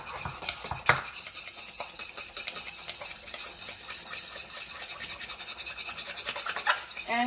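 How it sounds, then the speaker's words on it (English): A utensil stirs an apple cider vinegar and mayo dressing in a bowl, making soft, close scraping and clinking taps that repeat irregularly and faintly, with no voices. "Apple cider vinegar, mayo, and just give it a little stir."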